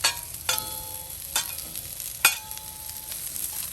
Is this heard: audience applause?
no